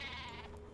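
A single faint, wavering sheep bleat with a buzzy, synthetic game-like tone from Worms: Clan Wars, steady for under a second.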